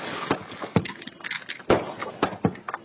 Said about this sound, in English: Fireworks start.